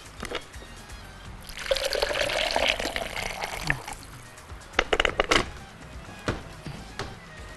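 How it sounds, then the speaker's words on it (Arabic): Water is poured into a cooking pot of meat for eggplant kebab hala, a continuous splashing pour building in the middle, followed by scattered drips and clinks of the pot, close and fairly loud. "خليني احط شوية مية كمان"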